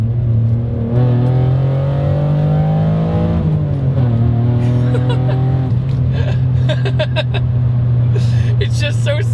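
A four-cylinder SVT Ford Contour with a Duratec engine revs, the engine tone holding steady, climbing briefly, then dropping and settling again, loud and close, with someone laughing and chattering near the end.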